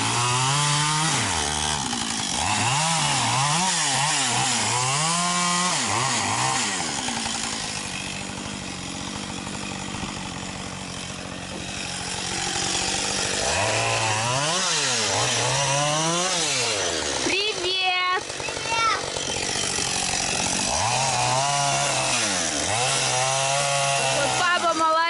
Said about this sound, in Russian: Газу больше давай, она не будет пилить, если газу не дать.